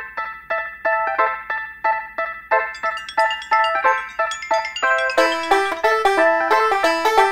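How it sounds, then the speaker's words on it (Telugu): Repeating electronic phone ringtone melody, a steady rhythmic series of bright tones that grows fuller partway through, heard alone and fairly loud while an outgoing call rings. "సరే, ఒకసారి సిద్ధుకు ఫోన్ చేయి."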